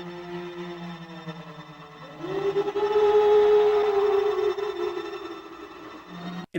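Banshee wail from the 1959 film Darby O'Gill, a rising, sustained eerie siren-like tone that swells loud in the middle and holds for several seconds before fading, with no talk over it.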